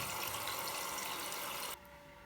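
Water gushes into a shrimp incubator in a reef aquarium, a dense, steady rushing hiss that cuts off abruptly near the end, leaving only a faint hum.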